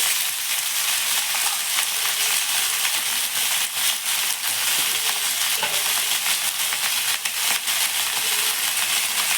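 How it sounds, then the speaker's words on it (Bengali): Pumpkin frying lightly in a pan gives a dense, steady crackling sizzle, close and fairly loud throughout, with small scattered pops and no voices. "একটু হালকা করে ভেজে নিচ্ছি"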